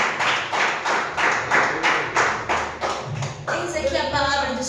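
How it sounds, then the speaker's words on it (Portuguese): A church congregation claps hands together during a Portuguese-language sermon, seven or eight rhythmic bursts of clapping that then give way to a voice and organ-like tones near the end. "Senta e bate uma salva de palmas ao Senhor"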